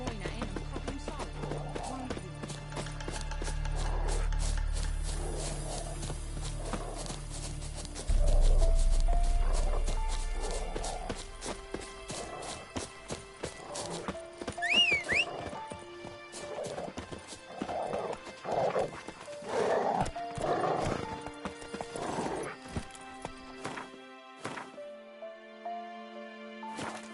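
Roach, a horse in The Witcher 3, gallops with rapid, rhythmic clip-clop hoofbeats and gives several whinnies, over a low rumble at the start.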